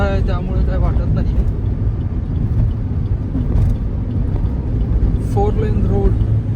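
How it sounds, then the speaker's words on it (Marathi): Heavy traffic roars past on a wide four-lane highway between Thane and Mankoli, forming a loud, constant engine drone with a few brief horn-like tones. A person talks over the noise. "गाड्या तर भरपूरच रोडला. रोड मोठा आहे त्यामुळे काय वाटत नाही."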